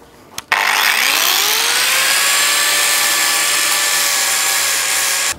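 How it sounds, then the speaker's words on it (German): An angle grinder cuts into wooden support struts for planks on a Chevy C10: after a brief knock it spins up with a rising whine, then holds a loud, steady, harsh grinding roar close by before cutting off. "Ich schleife das einfach mit der Flex runter, ist mir egal."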